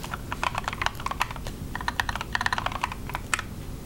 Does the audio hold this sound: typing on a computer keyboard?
yes